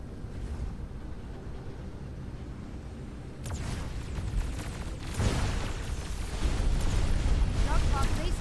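A Dark Fog base core being destroyed in Dyson Sphere Program, a low rumbling roar that surges in two stages into a loud, sustained broadband blast and crackling debris over a steady hum.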